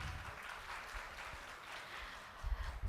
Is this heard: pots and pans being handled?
no